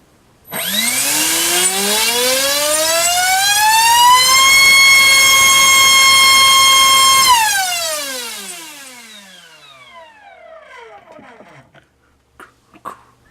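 A GARTT HF500 1600kv electric motor spinning a TGS 6x5 sport prop on a thrust test stand spools up to a loud, rising whine, holds at full power, then winds down. A few faint clicks follow at the end.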